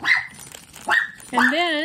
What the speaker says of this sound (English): sorry about the barking, you guys.